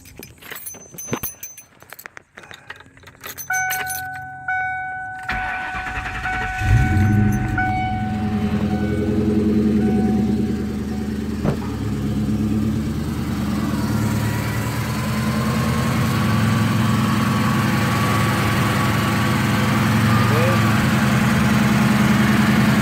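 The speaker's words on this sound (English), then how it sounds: "Start up my car" A car engine starting right after an oil change: a few seconds of handling noise, then the engine catches and settles into a loud, steady idle that drones on alone.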